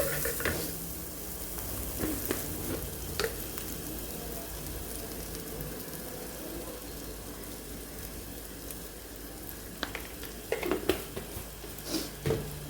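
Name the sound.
food frying in a pan while being stirred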